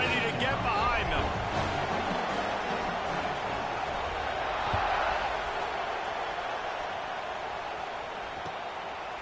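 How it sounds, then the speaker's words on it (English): Football stadium crowd roaring before a college kickoff between OSU and Florida State, a steady loud wash of cheering under a commentator's voice. "this crowd now ready to get behind them"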